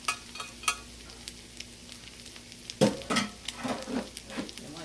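A spoon scrapes and stirs a potato mixture in a sizzling skillet, with a steady frying hiss under a series of close, sharp scrapes and knocks against the pan.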